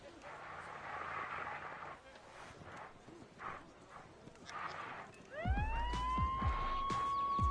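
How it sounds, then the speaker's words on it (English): A police siren in the theme-park video game Planet Coaster rises and wails loudly in the last couple of seconds, after quieter game sounds with hoof-like clopping and faint talk. "every time I hear that siren"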